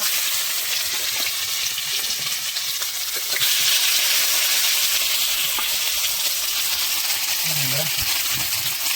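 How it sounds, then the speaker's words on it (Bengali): Puti fish roe fritter pieces frying in hot oil in a wok, a loud continuous sizzle and spatter that swells slightly partway through, with a faint voice near the end. "কেটে রাখা মাছ এখন ভাজা হবে এর কড়াইতে তেল তেতে গেছে"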